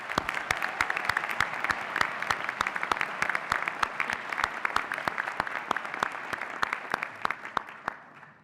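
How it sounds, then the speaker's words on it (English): An audience at a 2017 college undergraduate recognition ceremony claps steadily and evenly for honorees, the applause tapering off in the final second with no voices over it. "Let's give them all a round of applause."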